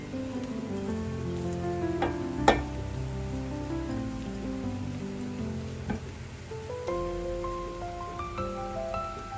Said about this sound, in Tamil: அரைச்சிருக்கிற வெங்காயத்தையும் பச்சை மிளகாயும் சேர்ப்பேன்